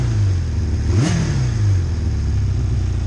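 A four-cylinder engine, likely in an old dirt bike, revs up sharply once, rising then falling back to a steady idle, loud and close with no talking.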